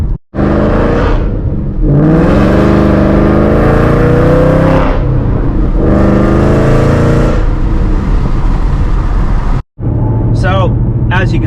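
Shelby GT500 making over 700 wheel horsepower, accelerating at under half throttle on tires not fully warm: a loud, close engine roar builds in two long rising pulls with tire spin, followed by a short break and a softer tail.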